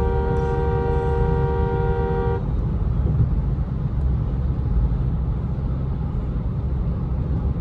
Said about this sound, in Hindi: ऐसा कुछ इसका आपको हॉर्न मिलेगा